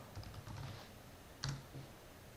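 A few soft computer keyboard keystrokes as a roster name is typed, sparse clicks spread across the moment with one sharper tap partway through, close and quiet with no talking.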